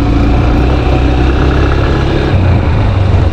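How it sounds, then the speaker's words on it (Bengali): A steady, loud engine drone runs throughout, low and labouring with a slight dip in pitch near the end, as a motorbike strains climbing uphill. "বাইক দিকে উঠতে চাইতেছে না।"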